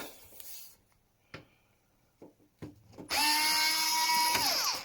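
Screws being removed from a Sony TC-WE475 cassette tape deck: a few faint clicks and scrapes, then a loud, close powered screwdriver whirring steadily for almost two seconds.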